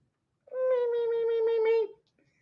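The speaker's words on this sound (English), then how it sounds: "Come here, kitty. You want to say hello to a kitty?" A cat gives one drawn-out meow lasting about a second and a half, close and clear, with no other sound around it.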